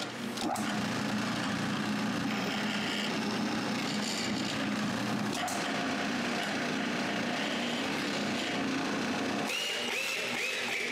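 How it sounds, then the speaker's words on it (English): A steady, continuous motor drone of a drill boring holes in wood close by for the whole stretch, with a brief shift in pitch near the end. "I use those marks to drill some holes."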